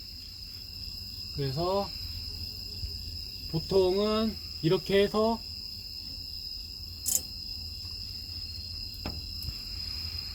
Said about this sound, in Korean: 지금 귀뚜라미 때문에 잘 안 들리네요 이게.